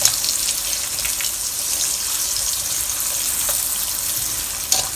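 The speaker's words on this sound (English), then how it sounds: "In the same wok, we'll fry our yam." Yam (taro) slices frying in oil in a wok, a continuous close hiss and crackle with a brief sharper splutter near the end, no voices.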